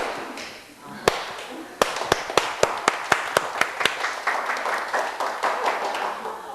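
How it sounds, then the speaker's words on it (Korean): Audience in a science lecture hall claps hands: a few scattered claps, then a run of sharp, evenly spaced single claps building into a denser patter, fairly close, with faint murmuring beneath. "박수를 치면?"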